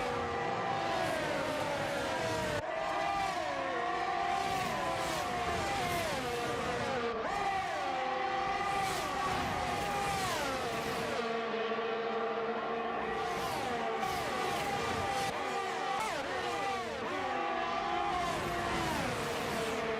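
Race cars in an F1 video game at the Australian Grand Prix scream past one after another, overlapping high-revving engine whines shifting pitch continuously and loudly for the whole stretch, with no talking.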